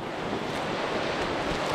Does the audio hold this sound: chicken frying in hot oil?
no